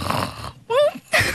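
Person imitating snoring during a radio broadcast, a couple of short nasal snorts separated by a pause, close and fairly quiet.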